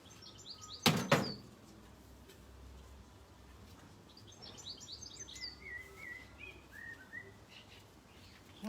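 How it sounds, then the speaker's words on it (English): Birds sing in a garden, chirping and trilling intermittently at a moderate distance over quiet outdoor ambience, with one sharp knock or thud near the start. "I hear the birds today, they're really singing."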